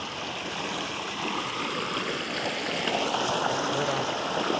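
Irrigation water runs through a chili field in a soft, continuous gurgling flow that stays low and steady and grows slightly fuller toward the end.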